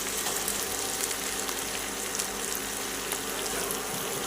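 Ginger paste and cumin powder sizzle in a frying pan while cooking a Bengali Bombay duck fish dish, a steady loud hissing crackle with faint stirring clicks, unbroken throughout.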